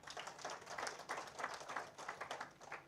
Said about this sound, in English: So you clap for MTN.